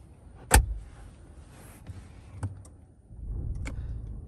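A 2021 Jaguar XF being started: one sharp thump near the start, then a few faint clicks, then a low engine rumble that rises and settles for the last second, heard from close by.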